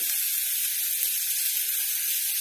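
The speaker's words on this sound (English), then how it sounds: "So my rasam is almost coming to boil." A pot of South Indian rasam nears the boil, giving a steady close hiss and sizzle with no change in loudness throughout and no talking.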